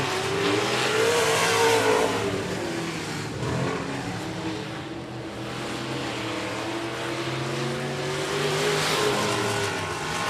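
Race cars at 105 Speedway roar through the turns, a loud sustained engine drone swelling and easing as they pass, with pitch sweeping up and down through the corners and no talk.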